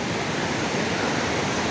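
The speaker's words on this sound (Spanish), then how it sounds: "Wow, este río sí que tiene corriente" Fast-flowing river current in northern Finland, heard up close as a loud, steady broadband rush of water with no pauses and no voices.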